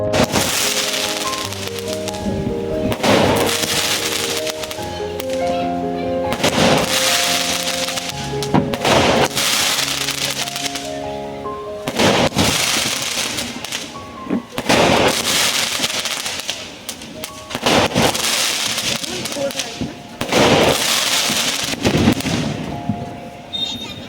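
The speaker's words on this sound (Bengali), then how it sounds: "চলো প্রচুর বাজি ফাটছে সেগুলো দেখি" Firecrackers bursting during Diwali and Kali Puja celebrations, a near-continuous barrage of loud cracks and booms, some close and some distant, with festive music and voices underneath.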